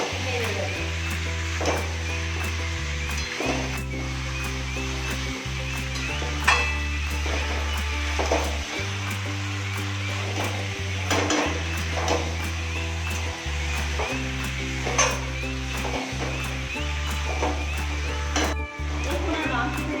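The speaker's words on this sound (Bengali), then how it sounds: "চিকেনটাকে সবাই নেড়ে দেবো।" Chicken kosa cooking in a pan: a steady hiss of chicken frying in released juices, with scraping and clinking as it is stirred, under a constant background hum.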